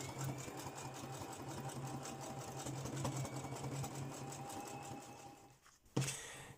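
A domestic sewing machine stitches fabric for a homemade bushcraft sewing kit, a steady close mechanical whir with rapid needle chatter that runs evenly, then stops briefly before a single clunk and a short restart.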